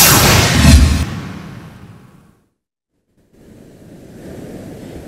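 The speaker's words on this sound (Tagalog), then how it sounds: "magdamag pa rin naranasan ang malakas na hangin dito sa bayan ng Santa Ana" Strong gusting typhoon wind roars loudly into the microphone, fades to a brief silence, then returns as a softer rushing blow.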